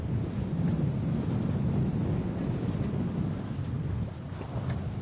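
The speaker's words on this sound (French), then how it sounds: "On a 22 nœuds de vent." Strong wind of about 22 knots buffets a sailboat, a steady loud roar of gusts and wind noise against the microphone with rushing water underneath, continuous throughout and with no talking.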